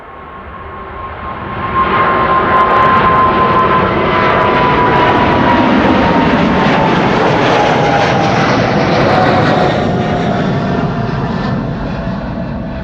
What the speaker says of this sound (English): Here it is, United Flight 71, going to Newark, 777-200.